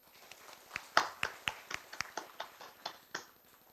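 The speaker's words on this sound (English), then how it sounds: "placing our appreciation with one round of claps" A small meeting audience claps a round of applause, sparse separate hand claps rather than a dense roar, fairly quiet and uneven, about a dozen sharp claps tailing off toward the end.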